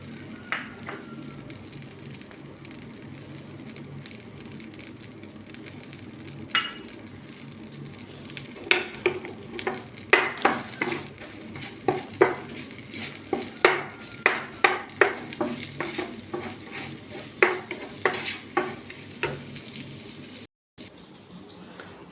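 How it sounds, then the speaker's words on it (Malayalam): Fennel and cumin seeds heating in melted butter in a pan give a low steady sizzle, broken later by a run of sharp, irregular pops and crackles that grow more frequent, close by and with no talk. "ഒരു പാൻ വെച്ച് അതിനകത്തേക്ക് കുറച്ച് പെരിഞ്ജീരകം, വലിയ ജീരകം, കുറച്ച് ചെറിയ ജീരകം, അധികമില്ല, 1/2 ടീസ്പൂണുള്ളൂ, കുറേശ്ശായിട്ട് ഒന്ന് ചൂടാക്കുക"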